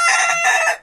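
A young rooster crows once, loud and close, a strained, high-pitched call lasting under a second with no other sounds around it.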